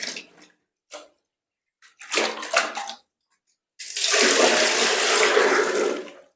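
Septic tank treatment solution poured from a bucket, with a few short splashes and gurgles followed by a sustained, loud, close-up stream of liquid.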